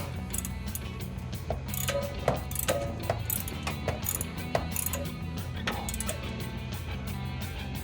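Ratchet clicking in quick bursts as bolts are tightened on Jeep Gladiator JT RedRock bed side rock rails, passenger side, close and steady with a low hum behind.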